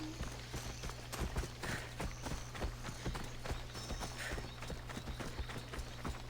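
A horse in Assassin's Creed Odyssey gallops downhill across mountain terrain, its hooves striking in a quick, regular rhythm under a steady low game drone, alone without talk.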